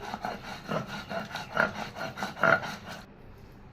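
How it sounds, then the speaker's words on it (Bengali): Poppy seeds being ground into a paste with a little water, likely on a grinding stone, give a steady, close rasping rub in repeated strokes that stop abruptly near the end. "দিয়ে পোস্তটা একটু জল দিয়ে খুব সুন্দরভাবে বেটে নিব"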